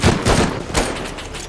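Rapid bursts of gunfire from the Rust video game, several loud close shots and a volley in quick succession, punchy and dense with no talking.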